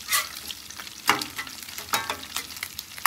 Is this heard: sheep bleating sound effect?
no